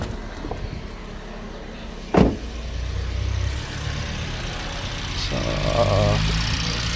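A car engine idles smoothly after an oxygen sensor repair: a steady low rumble, broken once by a brief sharp clunk, with a soft whine rising near the end.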